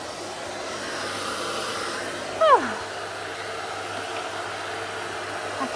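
Dog hair gets vacuumed from under a sofa with a steady, close motor hiss that runs the whole time, broken midway by a short exclaimed voice and a brief louder bump.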